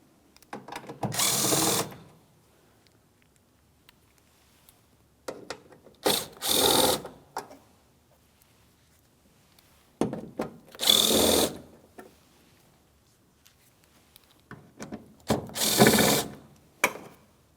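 Phillips head mounting screws being backed out of the tailgate molding on a 2007-2014 GMC Sierra 2500 HD, in four separate bursts of close, rasping ratchet-like clicking, each lasting a second or two with quiet pauses between.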